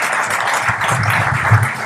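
Warm audience applause at a presentation on public control of water, a sustained, even wash of clapping heard throughout at moderate loudness.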